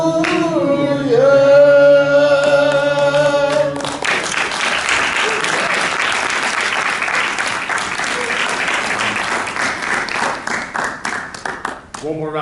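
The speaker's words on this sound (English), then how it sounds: "One more round of applause for Ms." A crowd claps at a civil rights symposium on Detroit and Selma. Sustained, loud applause fills most of the clip and fades unevenly at the end, following a few seconds of sung music.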